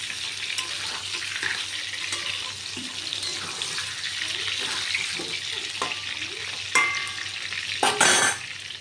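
Cumin seeds and bay leaf crackle in hot oil as a tempering, a steady close sizzle with light clinks of stirring and a brief louder splash near the end.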